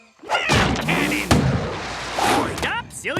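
A cartoon cannon fires a single sharp boom in the middle, with animated sound effects and voices around it.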